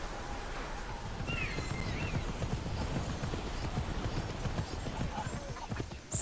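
Horses in the video game Immortals Fenyx Rising make a dense, steady patter of hoof clip-clops amid outdoor ambience, with a faint whinny now and then.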